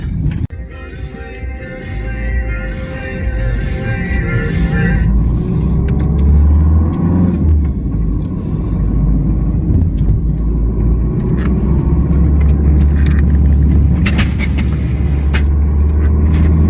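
2014 Ford Fiesta 1.6 TDCi diesel van driving on the road, heard from inside as a steady low engine and road rumble that continues without a break, with a brief mechanical whine at the start.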